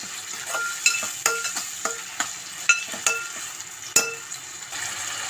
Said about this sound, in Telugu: ఉల్లిపాయలు పచ్చిమిరపకాయలు వేస్తున్నాను ఇలా వేగాయి కదా